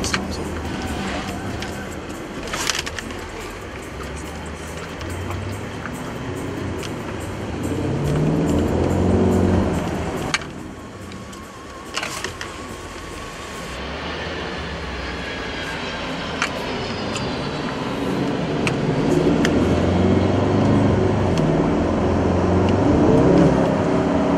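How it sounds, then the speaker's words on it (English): Engine of a car driven in sport mode on a Toronto test drive, the title naming a Mercedes-Benz E550, Porsche Cayenne and Mazda2, hums steadily and swells as the revs climb, with a voice talking over it throughout. "So sport mode will want to get the revs up."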